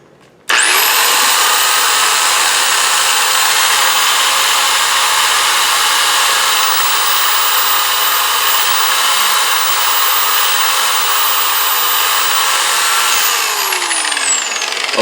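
A Harbor Freight 6-inch dual action polisher set to speed 6 switches on and runs with a steady, loud, high whine for about twelve seconds, then spins down, with no talking.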